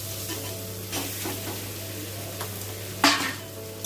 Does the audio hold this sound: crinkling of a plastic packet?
no